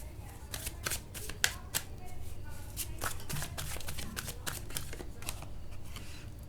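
Tarot cards being shuffled, with quick papery riffles and flicks repeating at an uneven rhythm, soft and close, while a voice speaks quietly now and then.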